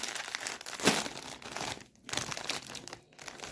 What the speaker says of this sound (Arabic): نفتح الكيس رقم 6 ونقول بسم الله الرحمن الرحيم